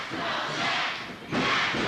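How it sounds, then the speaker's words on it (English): Crowd noise for the wrestler Astroman at a wrestling match, a broad roar that swells, dips briefly and surges louder again. "Listen to the crowd. They love him."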